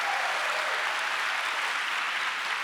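Audience applause at a conference closing session, a dense even wash of many hands clapping, steady and sustained with no distinct individual claps or voices.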